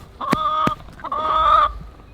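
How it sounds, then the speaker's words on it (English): Hens from an older homestead flock cluck up close, two short drawn-out calls in quick succession, loud and clear over faint background noise. "This is our oldest flock of chickens in this area."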